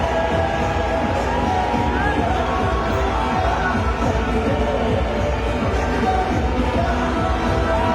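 Dense, steady stadium crowd roar at the 2011 cricket World Cup final between India and Sri Lanka, loud and continuous throughout with a broad murmuring wash and faint voices inside it.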